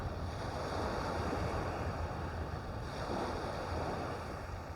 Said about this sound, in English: I wish this wind would die off though.